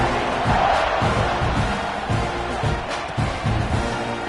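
A packed stadium crowd at a Texas A&M college football game roars steadily before a kickoff, a dense, loud wash of cheering with faint rhythmic thumps beneath it.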